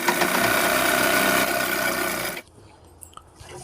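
A sewing machine stitches a folded fabric strip about 1.5 to 2 inches wide for men's underwear, running in a loud, even whir that stops abruptly partway through and leaves a quiet room with faint clicks.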